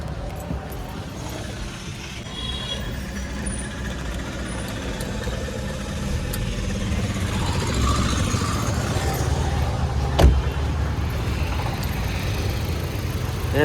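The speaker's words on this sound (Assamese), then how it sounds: "মই এবাৰ গাড়ীখন ষ্টাৰ্ট কৰি শুনাই দিও আপোনালোকক" A Ford Figo petrol engine idles quietly and evenly after starting, a low steady hum with a single brief knock partway through and no talking.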